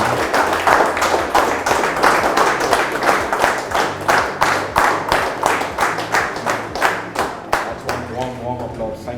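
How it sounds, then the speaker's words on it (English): Audience at the Apollo CV Awards ceremony claps in a strong, rhythmic unison beat, about two claps per second, loud and close, fading toward the end as a voice begins to speak. "Warm applause"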